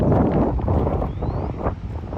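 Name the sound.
strong wind blowing into the microphone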